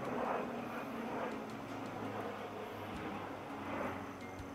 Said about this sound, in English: Has another plane.